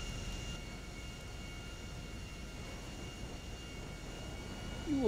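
An airplane in Grand Theft Auto V gives a steady, faint low engine rumble as it prepares for takeoff, with no talk over it.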